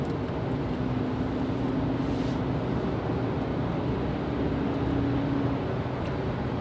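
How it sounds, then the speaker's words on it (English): Steady broadband road roar from general traffic on the 60 freeway in Los Angeles, a continuous low rumble with faint hum tones drifting in and out, constant and fairly distant, no voices. "And yeah, general traffic noise."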